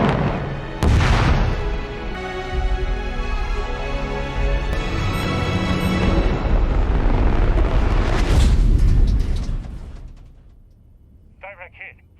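A ship in The Expanse fires a torpedo, a loud booming launch with a rushing roar that fills the scene under dialogue, then fades away near the end.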